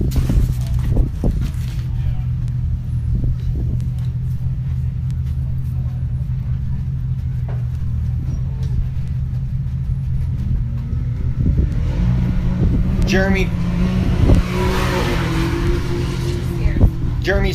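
Can-Am UTV race vehicle engine during 2023 High Desert 100 qualifying, a steady low droning hum that swells slightly toward the end, heard under continuous announcer talk.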